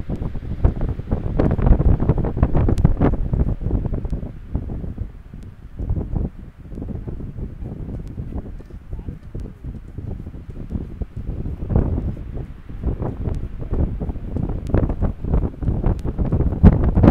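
Strong wind buffets the microphone at an outdoor lookout above water where people are boarding a boat, a continuous loud roaring rumble with gusty surges, no talk.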